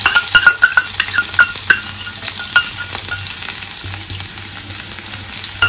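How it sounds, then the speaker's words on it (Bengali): Chopped garlic hits three tablespoons of hot mustard oil in a kadai (wok), crackling and sizzling steadily while a metal spatula clinks and scrapes against the pan in quick strokes early on, with no voices. "এবার কড়াইতে আমি 3 টেবিল চামচ সর্ষের তেল গরম করে নিয়েছি আর এর মধ্যে সবার আগে দিচ্ছি 1 টেবিল চামচ রসুন কুচি"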